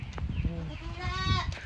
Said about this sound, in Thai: มาเบิ้งแพะครับพี่น้อง